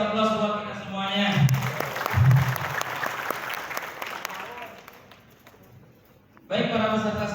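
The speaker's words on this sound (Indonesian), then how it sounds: "kasih aplaus buat kita semuanya" Seminar participants at an election-supervision training session burst into loud group applause lasting several seconds, fading out gradually, with someone talking over a microphone just before and after.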